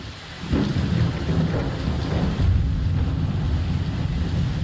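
Heavy rain pours steadily while rolling thunder rumbles loud and close, likely in a video game, with gusty wind buffeting throughout and no voices.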